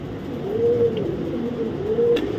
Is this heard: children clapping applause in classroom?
no